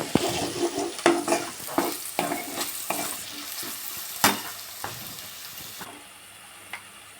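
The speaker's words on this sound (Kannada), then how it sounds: "ಈ ಸ್ಟೇಜಲ್ಲಿ ಶುಂಠಿ ಬೆಳ್ಳುಳ್ಳಿ ಪೇಸ್ಟ್ ಹಾಕೋಣ." Ginger garlic paste sizzles and fries in a pan for an ivy gourd (thondekai) gravy. A spoon stirs and scrapes in a steady rhythm, and the frying sound softens toward the end.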